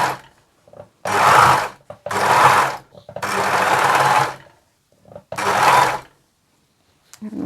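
An industrial blind hemming machine stitching a hem in black fabric, running in four loud, close bursts of steady whirring and rapid needle chatter, separated by short pauses and small clicks, with no talk.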